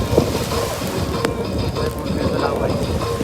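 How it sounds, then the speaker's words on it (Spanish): Rain falls at a beach with wind buffeting the microphone, a steady broadband hiss of drops and gusts filling the short stretch without letup. "Aquí nos agarró la lluvia, mi gente"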